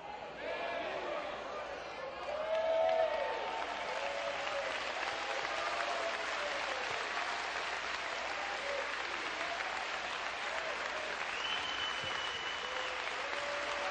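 A congregation claps for God during a Portuguese-language evangelical sermon, with sustained, dense clapping throughout and voices shouting and speaking over it.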